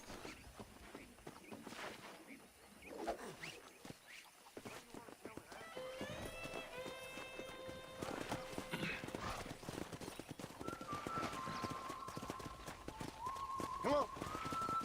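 Horses gallop in the Western video game Red Dead Redemption, with steady, quick hoofbeats and an occasional whinny. The sound stays fairly quiet and sits under background game sounds.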